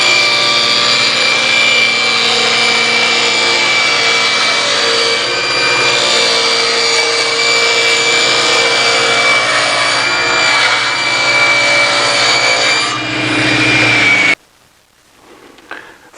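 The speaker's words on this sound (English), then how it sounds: "This cut I'll make at the table saw." A table saw rips through a sheet of plywood in a workshop, a loud steady whining cut lasting about fourteen seconds before the blade sound drops away abruptly into near silence.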